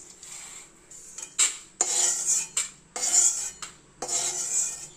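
A metal spoon scrapes and clinks in a pan while fried gram is dry-roasted, making repeated bright scraping strokes in an irregular rhythm, close and clear, with no talk.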